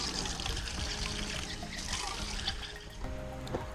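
Fresh water pours and trickles steadily into a pet bowl, a continuous splashing stream lasting the whole time, fairly close.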